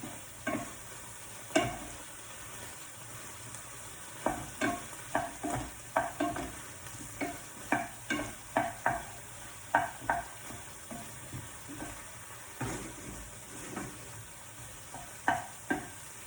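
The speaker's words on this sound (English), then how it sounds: "Keep stirring." Thai green curry being stirred in a pan with fish sauce added, spoon scrapes and taps recurring in an irregular rhythm over a steady close sizzle of frying.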